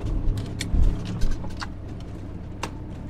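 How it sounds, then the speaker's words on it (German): Camper van pulling away near a beach at Tarifa, a low engine rumble heard from inside with a couple of bumps and faint rattles, steady and moderately loud. "Wir fahren jetzt los."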